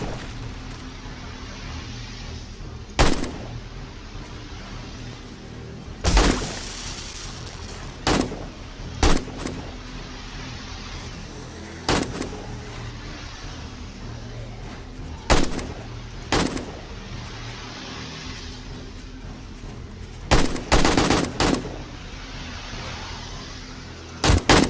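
Gunfire during horde night in the survival game 7 Days to Die, sharp single shots and short bursts spaced irregularly over a low steady background, some clustered close together, no talking.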